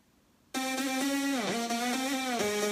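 A dry Nexus synthesizer lead with all effects removed, entering abruptly as a bright, buzzy sustained tone rich in harmonics, with a couple of pitch steps and a brief dip partway through, loud and alone.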